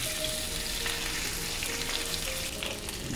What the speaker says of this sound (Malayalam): ഓയിലിൽ ഇത് ഫ്രൈ ചെയ്തെടുത്താൽ മതി